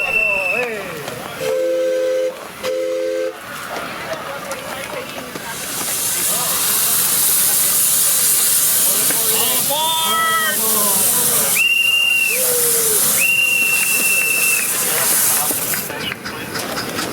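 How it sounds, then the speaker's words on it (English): A steam locomotive lets off a loud, steady hiss of steam, and a shrill whistle sounds in two bursts as it gets moving. "Finally, the first train of the year is ready to depart."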